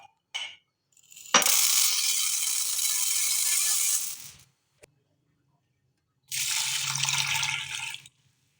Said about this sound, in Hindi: और इसके बाद इसमें पानी डालेंगे और इसको बॉईल करेंगे।